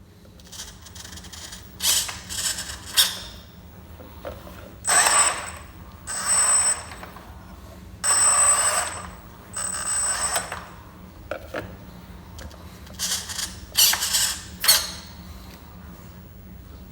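RC rock crawler Jeep test run, the small electric motor and steering servo whining and creaking in short separate bursts with quiet gaps between, close up and with no speech.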